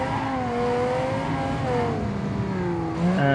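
A V10-powered SUV in BeamNG drives with a continuous loud engine whine, pitch gliding up and down through shifts and throttle changes, with a brief rise at the very end.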